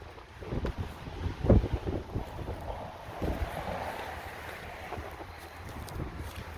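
Gusty wind buffeting a microphone outdoors on grass, with rumbling bursts that rise and fall continuously over several seconds, loud and close.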